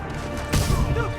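Grenade blast in Marvel's Spider-Man Remastered, a single sudden crash-like burst midway through a short stretch of busy game noise, moderately loud and brief.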